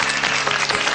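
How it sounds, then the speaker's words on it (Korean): An audience at a Korean high-school quiz show gives a short burst of dense consolation applause, loud and close, with a faint crowd murmur and no talk. "탈락한 원주 대성고에게 위로의 박수 부탁드립니다."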